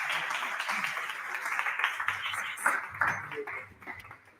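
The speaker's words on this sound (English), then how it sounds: "So please, let me give him a round of applause." An audience at a university faculty week event gives a speaker a round of applause, a lively burst of many hands clapping with some voices mixed in, tapering off near the end.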